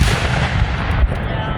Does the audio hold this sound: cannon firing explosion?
yes